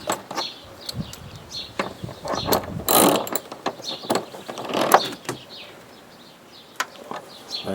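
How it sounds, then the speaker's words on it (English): A ratchet turns the wheel nut on the axle of a Honda lawn mower with sharp, close clicking bursts in irregular runs, louder around the middle, with short pauses between strokes. "you should ratchet in that direction, clockwise, and then replace the nut"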